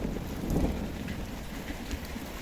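Rain starting up again over a vegetable garden after a hailstorm, a steady hiss of drops pattering on surfaces at moderate loudness, with no one speaking.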